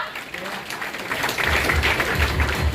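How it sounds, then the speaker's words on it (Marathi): Audience applause builds at a felicitation ceremony in Parbhani, held during a lecture series marking Ahilyadevi Holkar's death anniversary. Clapping grows louder and denser after the first second and continues steadily as a full crowd. "एकदा जोरदार टाळ्या।"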